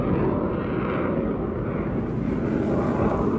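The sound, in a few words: military jets flying near naval air station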